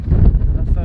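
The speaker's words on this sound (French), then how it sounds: "je sais pas si vous entendez, mais il y a un de ces vents." Strong wind buffets the microphone in heavy, low rumbling gusts outdoors, loud and continuous across the short moment.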